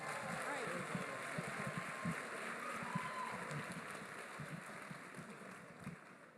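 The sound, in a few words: audience applause for honors students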